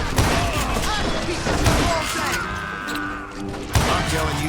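Call of Juarez Gunslinger gameplay with rapid bursts of Western-style gunfire crack over a busy mix of in-game impacts and effects, several sharp shots standing out loud and close.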